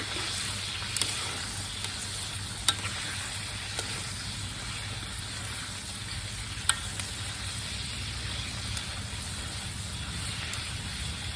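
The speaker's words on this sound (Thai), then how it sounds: "แล้วก็ทอดจนกว่าหมูจะเหลืองสุกสวยนะคะ" Lemongrass pork fries in a pan with a continuous close sizzle and hiss, steady throughout, with a few faint utensil taps and no talking.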